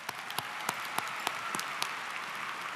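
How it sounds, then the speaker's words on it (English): Applause from a large crowd at a high school commencement ceremony, a dense, even wash of clapping with occasional louder individual claps standing out near the front. "one more round of applause for Mr. Yates for an amazing speech."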